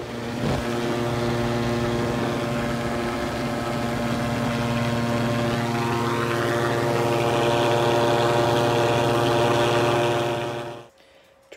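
A Viking 90 light aircraft engine droning steadily during a climb to altitude, heard loud and close from inside the cabin, with a constant propeller hum and a slowly shifting engine tone before it cuts off abruptly near the end.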